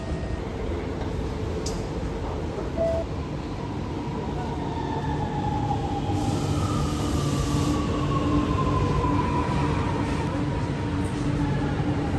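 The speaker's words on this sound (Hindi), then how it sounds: "நிலையம் செல்லும் அடுத்த ரயில் முதலாம் நடைமேடையிலிருந்து புறப்படும்." A metro train rolls through a station with a continuous loud rumble and rising wheel squeal, close and sustained, while faint announcement-like voices sit under the noise.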